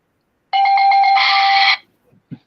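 A bright electronic bell tone rings loudly for about a second, pulsing at first and then holding steady before it cuts off, followed by a couple of faint knocks.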